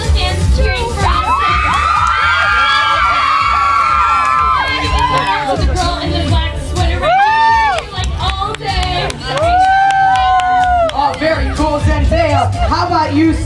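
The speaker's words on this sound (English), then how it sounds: "all the fans cheering for us" A large crowd of fans at a Radio Disney live event in Naperville cheers and shouts continuously, with high-pitched children's screams and whoops rising loudly over a dense roar of babble throughout.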